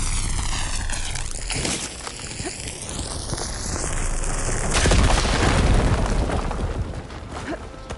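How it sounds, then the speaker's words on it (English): In Horizon Forbidden West, a fire beam is blown up: sweeping tonal game sounds give way to a loud, rumbling explosive burst that swells and decays over several seconds. "Should be able to blow up that fire beam."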